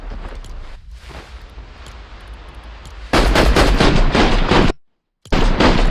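Rapid assault rifle fire in Fortnite rattles out in loud dense bursts, with a brief gap of silence before the shooting resumes.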